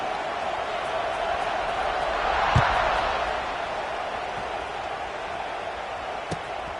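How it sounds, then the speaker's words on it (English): Football stadium crowd at an NCAA game buzzing after a score, a broad sustained roar that swells briefly near the middle, with a couple of sharp thumps and faint announcer talk mixed in. "this crowd is buzzing after that last score"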